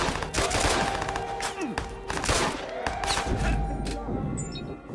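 Gunfire from a police shootout in the Watch Dogs video game: rapid bursts of shots and automatic fire rattle steadily throughout, with a dense game soundtrack and effects underneath.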